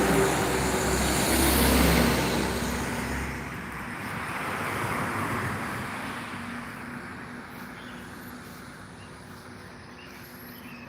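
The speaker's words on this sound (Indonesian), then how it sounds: "Pagi ini ada 5 unit bus sumbar." Buses and other traffic rumble at a bus terminal where a convoy of intercity buses is departing, engines swelling loud and then easing into a steady, fading road noise.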